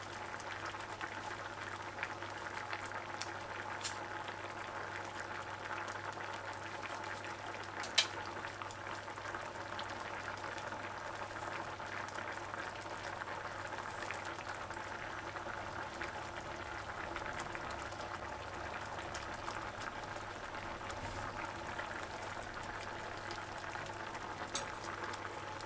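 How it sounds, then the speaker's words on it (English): A pot of vegetables cooks down in cream, bubbling softly with a quiet, continuous simmer and an occasional faint pop, close by and with no talking. "I must say it look good. Got all that cream bubbling."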